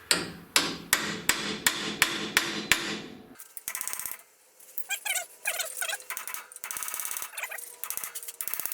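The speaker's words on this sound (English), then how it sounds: "here goes attempt number 1 with a chisel" Chisel hammered against rounded-off bolts during a Dana 44 high steer axle install on a Pontiac Safari wagon: about seven sharp, ringing metal strikes in a steady rhythm, then lighter clinks and scraping taps, close and loud with no talking.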